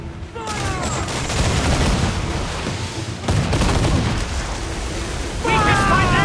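Cannon and gunfire volleys from a naval battle in Assassin's Creed Black Flag, a dense continuous barrage of loud booms and shots with shouted commands and talk mixed in over the fighting.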